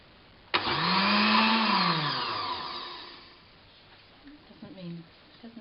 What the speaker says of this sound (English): And then you're going to blend it. I'm going to blend it.